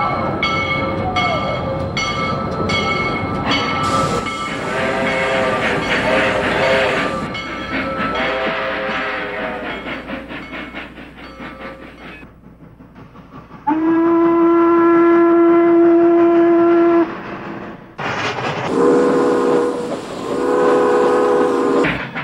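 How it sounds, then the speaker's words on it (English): Toy train locomotives running on a model layout, a steady rumbling roll under repeated whistle blasts as two engines trade long steam-style whistles in turn, loud and close. "This action-packed segment finally ends with a whistle exchange between two locomotives and some more animals."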